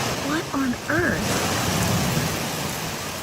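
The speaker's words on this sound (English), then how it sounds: "This is the perfect example of a moving rain shaft, where you can literally watch the storm come closer before it reaches you." Rain falls steadily as an approaching storm's rain shaft arrives, a broad even hiss; brief voice-like tones sound near the start before the wash of rain takes over.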